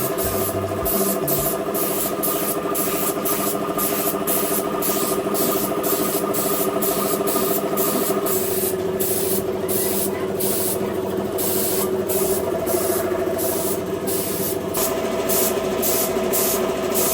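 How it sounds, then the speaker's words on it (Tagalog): A spray gun hisses steadily as it coats a motorcycle gas tank with primer, loud and continuous throughout, with a faint low mechanical hum beneath. "Hindi ko pa masyado gamay yung pag-adjust dito sa ating sa ating spray gun."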